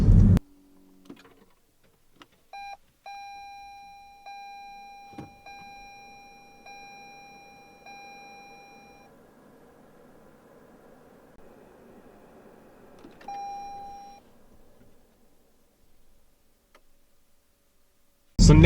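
A 2022 Toyota Camry Hybrid XSE plays soft electronic chime tones as it powers on and again as it shuts off, with a quiet hum between them and faint clicks.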